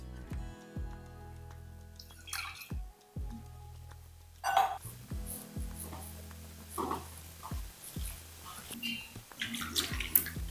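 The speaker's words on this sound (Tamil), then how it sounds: "ஒரு டம்ளர் அளவுக்கு தண்ணியை ஊற்றி நல்லா கரைச்சிக்கலாம்" Water poured into a vessel of ragi flour in a home kitchen, splashing and trickling in short uneven bursts, close and moderately loud, alone without talk.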